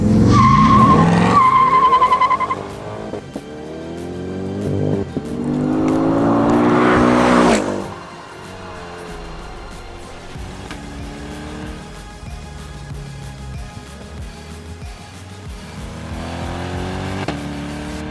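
A Chevrolet Corvette C8 Z51 revs loudly and its tires squeal in a long skid, the engine climbing then easing off into a quieter, steadier drive with occasional tire chirps.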